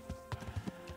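Horse hooves clip-clop in a quick, uneven run of about half a dozen steps, close and moderately loud, with a faint whinny-like tone underneath, from the medieval video game Kingdom Come: Deliverance.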